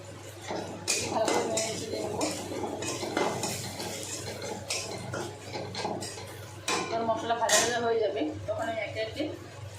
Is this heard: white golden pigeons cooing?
no